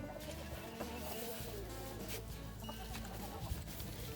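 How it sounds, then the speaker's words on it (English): Several chickens cluck and murmur close by in a busy, continuous flock chatter, with scattered sharper calls over a steady farmyard background. "Come on, gather around, chickens."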